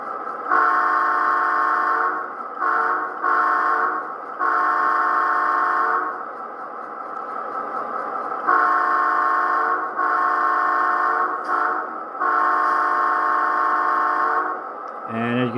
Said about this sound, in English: now here's the horn that I've selected for